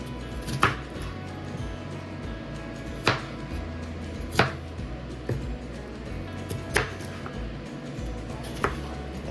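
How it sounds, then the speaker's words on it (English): A knife cutting up a large onion for air fryer potatoes, several sharp chops on a board at irregular intervals, close and moderately loud over a low kitchen hum, with no talking. "Just cut you up some onions."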